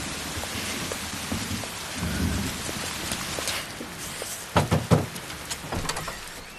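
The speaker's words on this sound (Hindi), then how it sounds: "लगता है बारिश नहीं रुकने वाली।" Heavy rain pours steadily onto surfaces in a torrential downpour, a dense hiss joined midway by a few sharp cracking thunder-like bursts close by.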